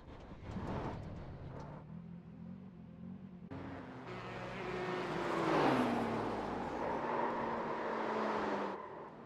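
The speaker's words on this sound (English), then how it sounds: "Wild car comes through." Race car passing by in the iRacing sim game at an IMSA event, a faint engine whine swelling and then falling in pitch as it goes past, with a softer engine rumble continuing before and after.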